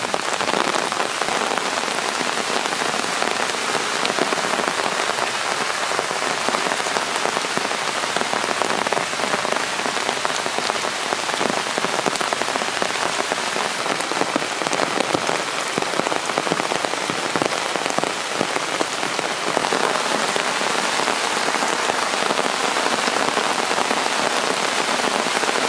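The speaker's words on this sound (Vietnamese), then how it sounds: "Đấy, mưa" Steady rain falls on a creek at the start of the fishing season, a dense continuous wash of drops that stays loud and even throughout, with no voices.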